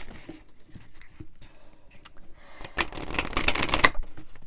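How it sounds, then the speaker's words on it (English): Oracle cards are shuffled by hand in quick papery riffles that grow louder and denser toward the end, close and without talk. "and we're going to shuffle again"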